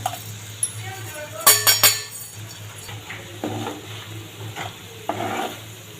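A spoon stirs and clinks against a pan as chili and fenugreek powder mix into sizzling oil for tomato chutney, with short scraping bursts over a low frying hiss.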